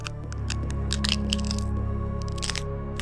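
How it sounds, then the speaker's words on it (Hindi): Bones crack and break as a horror-story sound effect, a quick series of sharp cracks and crunches over a low, steady hum, close and fairly loud with no talking. "मेरी हड्डियां अंदर से टूटती चली गई।"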